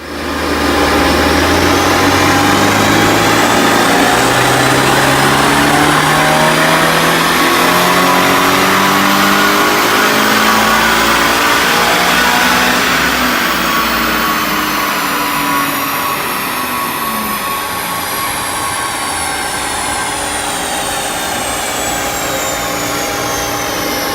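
A supercharged 2019 Subaru BRZ engine revs hard through a long acceleration pull, its loud whining note climbing steadily in pitch, then easing to a steadier drone once the pull tops out.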